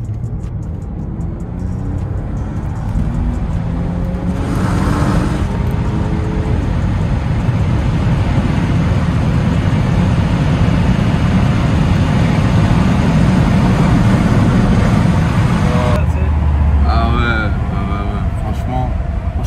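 A car in sport mode accelerates hard, its engine noise swelling into a dense, steady roar that keeps building, close and loud, before it drops away near the end.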